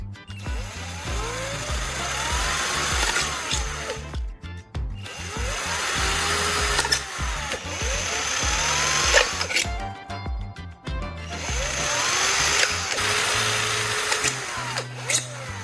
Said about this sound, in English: Then I'll punch several small holes in the base to improve airflow from below